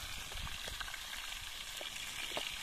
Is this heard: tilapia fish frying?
yes